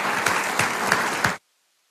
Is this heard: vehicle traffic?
no